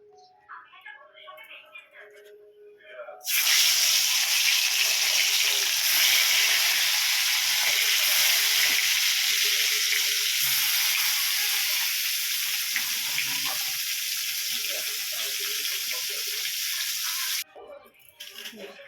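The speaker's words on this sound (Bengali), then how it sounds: "এই যে মাছ ভাজা, শোল মাছ, ফুলকপি আলু দিয়ে ঝোল হবে, ছেড়ে দেবো কড়াইতে" Pieces of snakehead fish go into hot oil in a wok with a sudden loud burst of sizzling that holds as a strong, even roar for about fourteen seconds, then cuts off, leaving quieter kitchen sounds.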